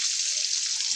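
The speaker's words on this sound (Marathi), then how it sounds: "चांगले मस्त कुरकुरीत होईपर्यंत छान तळून घ्यायची, आतमध्ये तेल जाईपर्यंत" Mackerel pieces frying in hot oil until crisp give off a steady, close, bright sizzling hiss that holds evenly throughout, with no talking.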